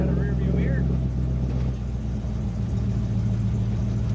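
A 1939 Plymouth five-window coupe project car runs with a steady, close, rumbling low drone, with someone talking over it.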